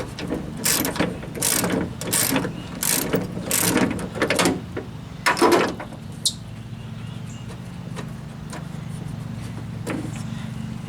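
A hand ratchet clicks in quick bursts while loosening a bolt on the tailgate of a rusty Jeep Wrangler YJ, the pawl rattling in several close strokes before the work quiets into faint background noise.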